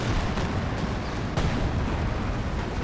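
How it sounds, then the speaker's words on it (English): A Panther tank's main gun fires in Company of Heroes 2, heavy booming shots rolling into a dense, continuous wash of battlefield rumble and distant explosions. "Panther is firing away."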